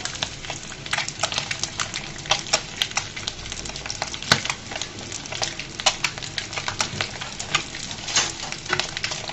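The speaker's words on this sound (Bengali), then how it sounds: "ডিমগুলো একদম সুন্দর করে ভেজে নিয়েছি" Eggs frying in hot oil in a pan, a steady loud sizzle broken by frequent sharp crackles and pops throughout, with no voices.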